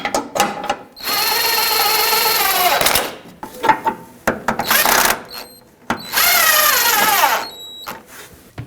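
A power tool, likely an impact wrench, tightens front sway bar bushing bolts on a 2012-2017 Toyota Camry, firing in two loud sustained whirring bursts separated by shorter clicks and handling noises.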